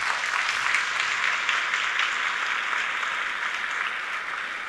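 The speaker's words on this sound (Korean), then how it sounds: "역시 박수로 모시겠습니다." A university anniversary ceremony audience applauds an award recipient as she is welcomed, a smooth, even wash of many hands clapping, moderately distant and sustained without a break.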